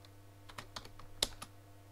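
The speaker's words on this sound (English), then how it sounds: "where I can start typing" Keys on a computer keyboard tapped at a desk while a search is entered in an Emacs interface: a few soft, close, irregular clicks over a low electrical hum.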